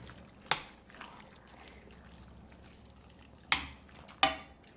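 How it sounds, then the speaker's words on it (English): A pot of turkey and white bean chili being stirred, with a few sharp scrapes of the spoon against the pot over a low, steady simmer background. "Let me stir it up."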